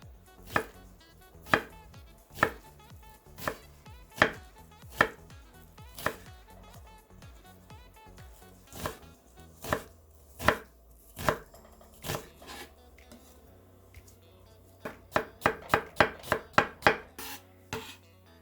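A knife chops onion finely on a cutting board in a kitchen, single crisp strikes spaced about a second apart, then a rapid burst of quick chops near the end, close and alone with no talk.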